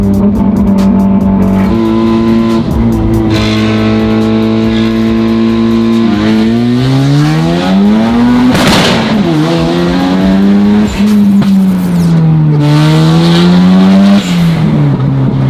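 The Mazda RX-7 from Fast and Furious revs hard, its engine pitch rising and falling through repeated acceleration and gear changes, with bursts of tire squeal, loud and close throughout.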